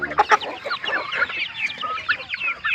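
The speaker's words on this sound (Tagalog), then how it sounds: "Ayan ang mga manok." Chickens clucking and squawking on a small farm, several birds calling at once in close, busy, overlapping bursts.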